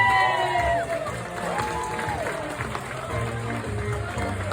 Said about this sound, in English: Give a big round of applause for Miss Cherry Montgomery